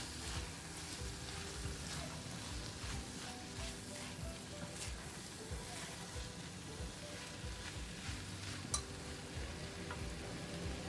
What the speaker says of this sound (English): Add in the pan-fried minced meat, frozen peas. Mix well.